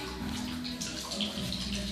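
Water splashing and pouring steadily into a dog bowl at home, a continuous wet rush of moderate loudness with a faint voice in the background.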